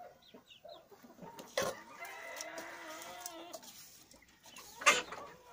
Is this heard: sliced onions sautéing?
no